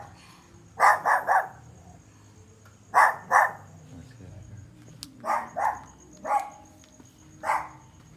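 A dog barks in short bursts of two or three, about six barks spread over several seconds, moderately close against a quiet background.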